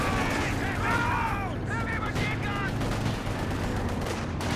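M36 Jackson tank destroyer gunfire in Company of Heroes 2 sounds as loud repeated cannon shots within dense continuous battle noise, with a commentator talking over it throughout.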